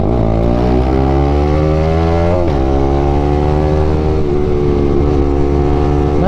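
A Bajaj Pulsar NS200 motorcycle ridden at full throttle on a road roars loudly up through the gears, its engine pitch climbing, briefly dropping at each shift, then rising again.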